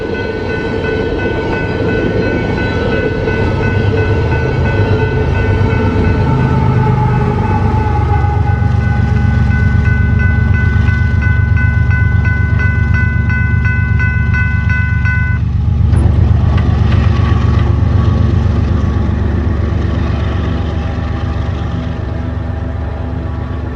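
BNSF freight train on the west end of the Ottumwa Subdivision in southern Iowa sounds a horn blast, then a long, loud, steady low rumble of cars rolling by.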